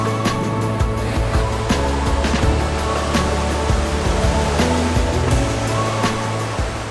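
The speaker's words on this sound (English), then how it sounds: "This river running through this canyon is beautiful." A river rushes through a rocky canyon in Banff National Park, a loud, steady roar of churning water close at hand with faint clatters and movement mixed in.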